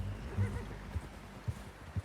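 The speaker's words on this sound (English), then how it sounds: "How's that new horse?" A horse in the Red Dead Redemption 2 video game gives a short whinny, and its hooves follow with a few spaced clip-clops, all fairly quiet.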